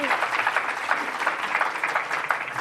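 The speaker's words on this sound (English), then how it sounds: "I think a round of applause is warranted." An audience applauds a panel at a public forum on affordable housing and economic mobility in New York City, a steady wash of clapping lasting a few seconds at moderate distance.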